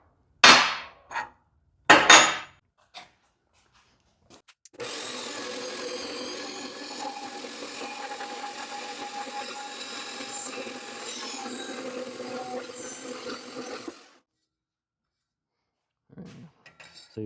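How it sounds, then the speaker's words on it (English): An exhaust pipe pie-cut jig for a portable band saw table, clamped onto metal tubing: a few sharp metallic knocks, then a steady grinding, ratcheting rasp as it is tightened down for several seconds, near and alone. "So you put it in, tighten it down."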